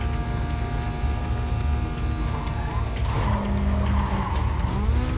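Race car in Need for Speed Carbon, a loud engine whine with shifting tonal pitch and a long tire squeal and skid rising in the second half, no voices.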